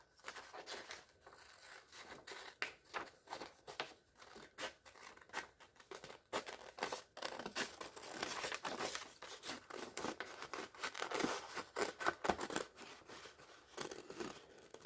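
Paper leaf shapes being cut with scissors, a steady series of close, crisp snipping and crinkling cuts repeating quickly and irregularly for the whole stretch, with no talking.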